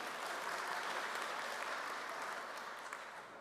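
Sustained applause from a conference audience at the GMB union congress, dense and steady clapping filling the hall before tapering slightly at the end.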